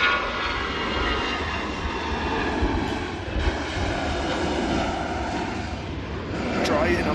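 A Lufthansa jet departing Manchester Airport for Munich, its engines giving a steady, loud roar with a faint whine on top while people talk over it.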